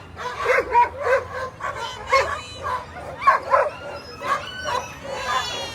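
A team of sled dogs barks, yips and whines in rapid repeated bursts at the start line of the Fur Rondy sprint race on 4th Avenue in Anchorage, loud and close with no talking.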